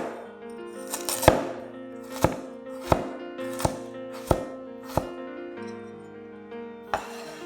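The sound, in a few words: knife julienning carrots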